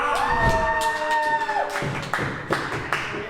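A wrestling video game crowd roars steadily at a ring entrance for Big Hoss against Johnny Faith, a loud sustained mass of voices over tonal entrance music, with sharp thuds and swells punctuating the din.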